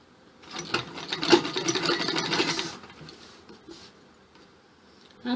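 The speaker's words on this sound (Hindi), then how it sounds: "आपने इस तरीके से किनारे किनारे एक सिलाई देनी है" A sewing machine runs a line of stitching along the edge of fabric, a quick whirring burst of about two seconds near the microphone that then slows into a few softer, scattered mechanical sounds.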